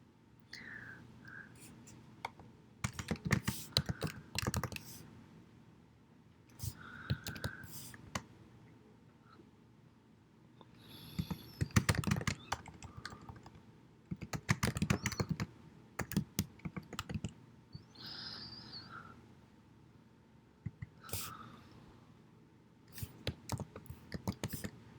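Computer keyboard typing while a Java program is written, bursts of quick close key clicks separated by short pauses, with soft talking in between.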